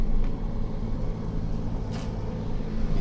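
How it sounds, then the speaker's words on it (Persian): A car rumbles past in a horror video game set in an abandoned asylum, a steady low engine drone lasting the whole moment with a brief brighter swell near the end. "این صدا ماشین اومد."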